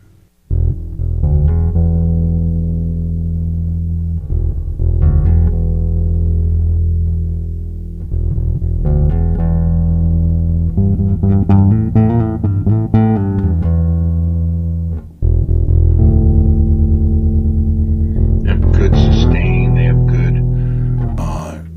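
Electric bass guitar playing a steady, warm riff with sustained low notes and a few brighter plucked flourishes, alone with no talking.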